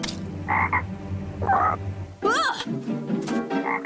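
Cartoon frog croaking in a fishing scene, a series of loud, warbling croaks in separate bursts with brief gaps between them and a voice speaking alongside.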